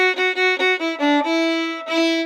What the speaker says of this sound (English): I do a little bit of a chug rhythm with my bow.